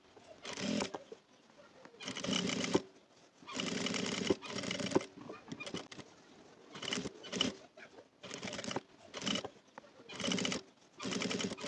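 A sewing machine topstitches the left and right edges of a fabric belt loop in short bursts of rapid whirring stitches, separated by brief pauses. The sound is close and moderately quiet, with no voices.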